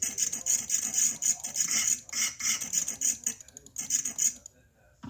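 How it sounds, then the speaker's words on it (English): A dental explorer scrapes excess temporary cement and debris off a tooth ahead of fitting a permanent crown, giving repeated close, rasping scratches in short bursts that stop near the end. "Now use the Explorer to remove any excess temporary cement and debris."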